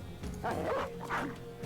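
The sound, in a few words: dog barking in video game Battle Brothers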